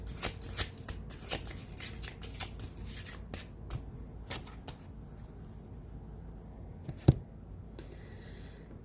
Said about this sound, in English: Gonna shuffle in real quick here.